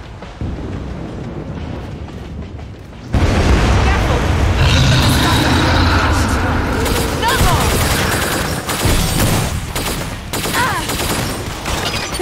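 Heavy continuous gunfire and booming blasts in a Killing Floor 2 zed battle, loud and dense after a sudden onset, with voices talking over the barrage.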